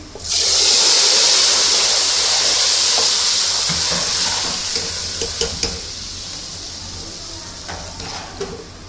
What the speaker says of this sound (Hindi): ये अब हम इसको तड़का लगा देंगे।